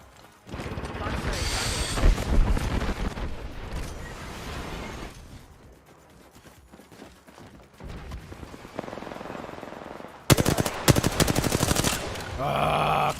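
Video game gunfire comes in rapid automatic bursts, heavy at first, fading to quieter stretches, then returning loud and sharp near the end over a busy game mix.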